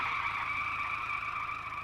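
A car brakes to a stop, its tires giving a loud, sustained squeal that holds for nearly two seconds with no talk over it.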